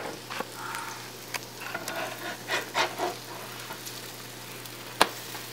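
Bacon pancake batter frying in a hot pan, a steady low sizzle with soft scrapes and taps of a spatula and one sharp clack near the end, fairly quiet and close with no talking.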